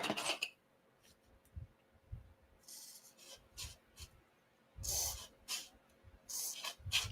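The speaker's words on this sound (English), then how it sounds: "just squirt some on the tracks or the scroll" Lubricant is sprayed onto the slides and scroll of a woodturning lathe chuck in several short, close hissing bursts separated by quiet pauses, with no voices.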